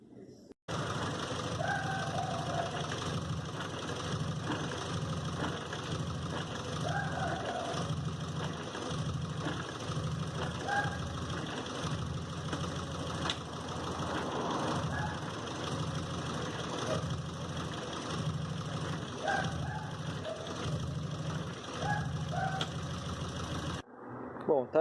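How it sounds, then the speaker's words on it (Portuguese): A Renault car engine starts and settles into a steady idle, checked for movement on its engine and gearbox mounts; a continuous low rumble runs throughout, with a voice heard faintly over it. "vou ligar o carro e vou fazer esse teste"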